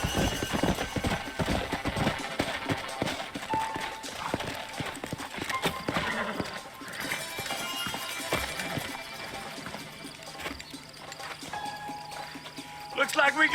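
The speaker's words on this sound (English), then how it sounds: "Let's hold up a minute and find a spot for our horses." Horses gallop in the Red Dead Redemption video game, their hooves drumming in a dense, rapid clip-clop with occasional whinnies, loud and close beneath game dialogue and other game sounds.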